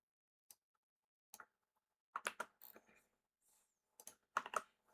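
Keyboard typing on a computer during a Python coding session, heard as scattered short bursts of quiet clicks separated by silent gaps, close and alone with no voice.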